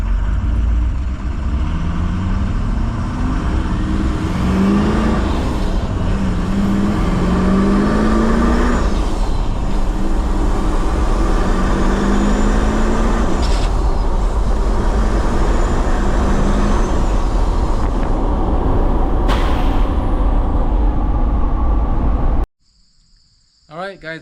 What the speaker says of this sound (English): we're gonna go ahead and take off from first gear here and see how it goes